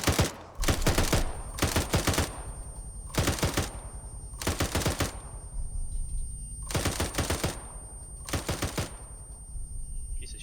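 Automatic gunfire in ArmA 3: six loud, close bursts of rapid shots separated by short pauses of a second or so, each burst a tight rattling cluster over a faint steady background hum.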